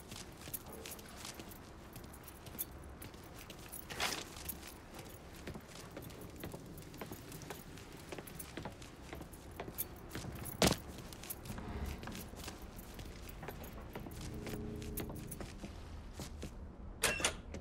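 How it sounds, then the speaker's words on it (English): Keys jangling as they are picked up in the Mafia 3 video game, faint metallic clinks scattered over low ambient background noise, with a few sharper clicks and thumps. "Lincoln, pick up the keys."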